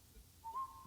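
A man whistles a short rising tune in a played commercial, a faint single melodic line over a quiet background, ending in a brief louder noise.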